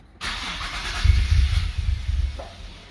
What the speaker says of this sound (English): now we're going to attempt to start the car